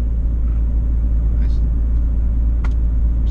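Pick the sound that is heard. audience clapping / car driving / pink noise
car driving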